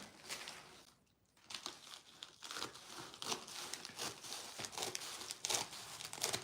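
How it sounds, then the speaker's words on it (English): Someone cuts open and unwraps a hair-tool product package, with close crinkling and tearing of plastic and paper arriving in irregular bursts. "And let's go ahead and cut it open and see what we got."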